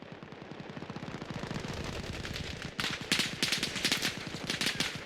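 Rapid automatic gunfire in a 12-vs-12 ranked match on the Barzan map, a steady fast rattle that grows louder and sharper midway, moderately distant and with no talk over it.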